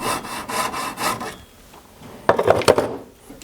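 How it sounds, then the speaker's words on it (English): A sanding disc rubs against a piece of silver in rhythmic abrasive strokes, several back-and-forth passes, then a pause and a louder burst of scraping, close up. "I'm going to use a sanding disc real fast."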